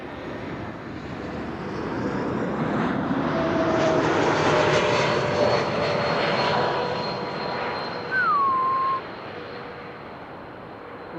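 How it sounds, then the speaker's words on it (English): Swiss flight 728 from Zurich arriving at Amsterdam Schiphol: its engine roar swells from a distant rumble to a loud, broad drone, then eases away, with a short high whistle near the end. "Swiss flight 728 arrived from Zurich"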